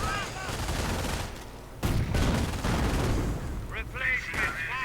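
Gunfire crackles through a World War II real-time strategy battle as American snipers and an anti-tank gun trade shots, dense bursts and booms layered continuously with a brief lull before another heavy volley and someone talking over it.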